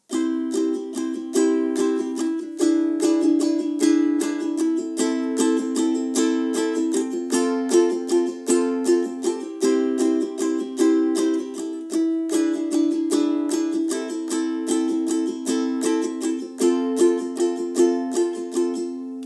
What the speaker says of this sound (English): here you will need to play this strumming pattern: down, down, up, down, up